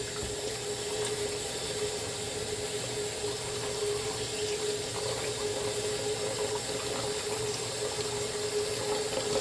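Water runs steadily from a kitchen tap into a cooking pot being filled with about six liters, a continuous broadband rush with a faint hum throughout, no talking.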